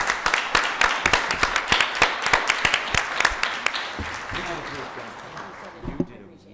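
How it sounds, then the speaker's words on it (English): Audience applause for the League of Women Voters at an evening event, with a burst of sharp individual claps that thins and fades over several seconds, with voices talking underneath. "applause for the League of Women Voters."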